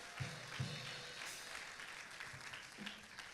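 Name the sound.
congregation applause in church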